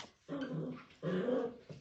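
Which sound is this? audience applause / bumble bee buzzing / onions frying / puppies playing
puppies playing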